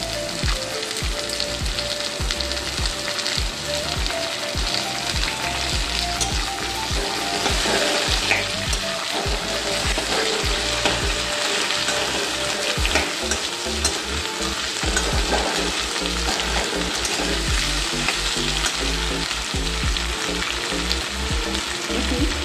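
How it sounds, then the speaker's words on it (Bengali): Curry leaves frying in hot oil for a prawn curry with ridge gourd, a loud, steady, dense sizzle and crackle that runs unbroken throughout, close up and alone. "এবার রেখে দিচ্ছি কারি পাতা"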